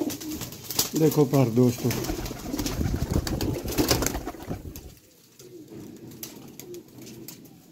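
Golden teddy pigeons coo in soft repeated calls, close by, mixed with someone talking over them, then quieter cooing continues in the background.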